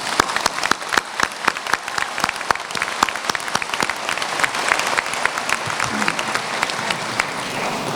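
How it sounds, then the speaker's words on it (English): An audience at an executive award ceremony gives a sustained round of applause for graduates' families, dense clapping holding steady for the whole stretch with no voice over it. "let's have a round of applause for your families"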